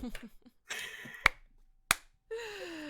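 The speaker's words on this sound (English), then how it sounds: "Snaps and claps for Carol Collector in chat" Two sharp, separate finger snaps ring out during a live drawing stream, spaced about half a second apart, with brief talk-like sounds before them and a rising tonal sound after.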